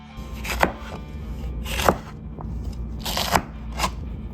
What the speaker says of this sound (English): Just slice these as consistently the same size as possible.